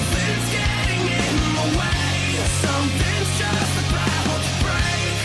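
Rock music plays loud and dense, with driving drums, heavy distorted guitars and steady low-end throughout, no talking over it.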